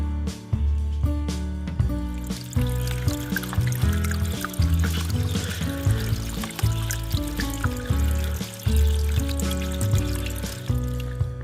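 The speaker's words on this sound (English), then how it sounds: "But it's a pretty light trickle." A light trickle of water runs at a backcountry water source on a hiking trip, a steady liquid flow with ringing, tonal resonance throughout, fairly close and continuous with no talking.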